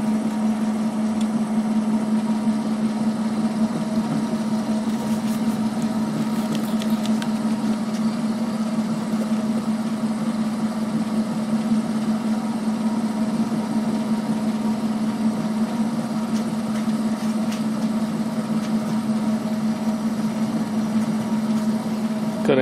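A Clausing metal lathe turns at about 325 RPM while cutting titanium, with a steady mid-pitched motor hum and faint cutting noise that runs evenly throughout, close and continuous, without talking.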